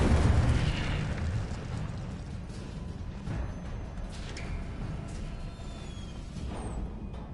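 Fire spell blast in the video game Hogwarts Legacy, a loud whooshing burst at the start that fades into a lingering crackling rumble.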